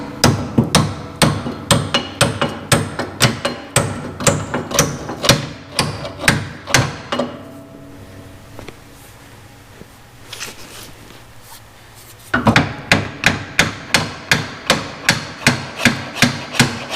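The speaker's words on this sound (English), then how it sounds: "got a hammer" Steady hammer blows ring out loud and close in a quick, regular rhythm while prepping a 494A engine, stopping for several seconds of near quiet before the pounding resumes.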